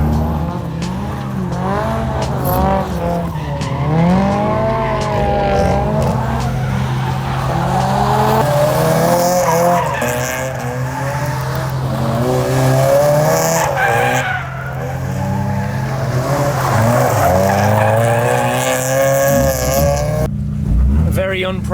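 Toyota AE86 drift car driving fast: continuous loud engine roar rising and falling through revs, with long tire squeals and skidding layered throughout, and voices talking over the din.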